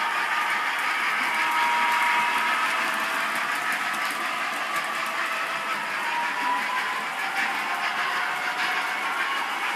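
A model railway J36 locomotive runs on a layout, giving a steady, close mechanical whirr and light rail clatter that continues evenly without talk.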